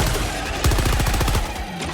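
A .50 caliber machine gun fires in the Helldivers video game, a rapid, steady burst of heavy shots over a busy, loud game mix.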